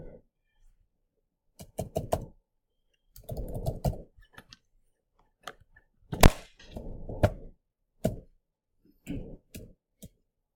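Scattered bursts of clicky keyboard typing, a few keys at a time, separated by quiet pauses; close and fairly crisp.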